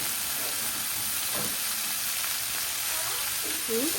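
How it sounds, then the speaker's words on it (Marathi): Onion and finely chopped spring onion greens frying in a pan for Khandeshi brinjal bharit, a soft steady sizzle at low level, with faint murmurs of a voice near the end. "कांदा असतो ना तो मी यामध्ये पहिल्यांदा थोडासा तळायला टाकलेला आहे"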